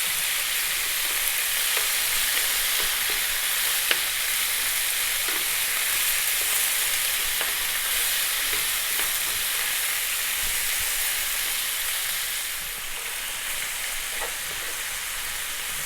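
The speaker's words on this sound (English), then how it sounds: "on this high heat, we're going to go for about 4 minutes just to seal and get the lamb a little head start" Lamb for a curry sears in a pan over high heat with a loud, continuous, close-up sizzle. It keeps a steady hiss throughout, with faint crackles and spits and no talk over it.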